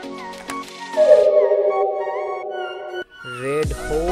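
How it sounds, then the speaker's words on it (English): Wolf howl, a single long sustained tonal cry that rises then holds steady before cutting off, followed by a brief lower growling sound, clear and close against a quiet background. "Wolf."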